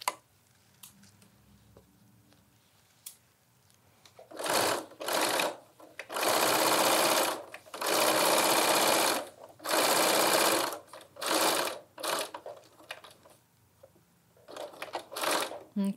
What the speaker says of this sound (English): Okay, so I backstitch at the end there, trim my threads